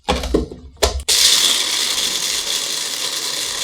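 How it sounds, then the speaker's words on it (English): A small blender whirs up after a few knocks and rattles, then grinds peppercorns steadily and loudly, a harsh continuous buzz running to the end. "I dump them into a blender and I pulverize them"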